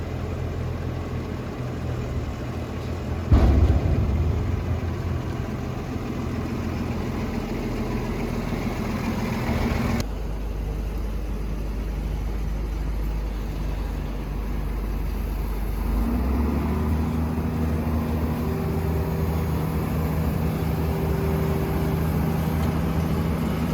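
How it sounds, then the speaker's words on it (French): A tractor engine runs on a night wheat harvest, with a steady, low, rumbling idle close by that shifts slightly in pitch partway through, and no voices. "on est rentré avec le tracteur"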